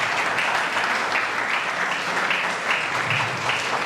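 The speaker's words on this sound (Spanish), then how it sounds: "me gustaría que le dieran un fuerte aplauso más" A conference audience gives sustained, dense applause at an event on youth action against violence, a steady wash of clapping from many hands with no gaps for the full stretch.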